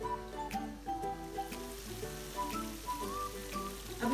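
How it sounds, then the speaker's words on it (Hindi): Gulab jamun frying in oil on low heat, a gentle, steady fine crackle and bubbling sizzle, quiet and close with no talk. "ऑयल में फ्राई होंगे हल्की आंच में।"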